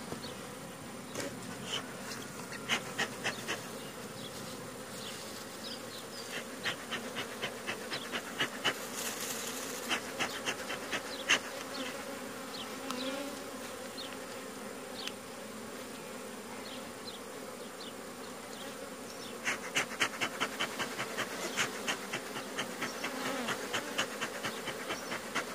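Honeybees swarm around an open hive during an inspection. Their steady buzzing hum swells as insects fly close past the microphone, and there is no talking.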